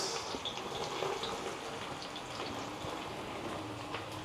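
Onions and mixed vegetables hitting hot oil for street-style egg noodles, giving a steady, dense sizzle with a watery hiss that holds evenly throughout, no voices.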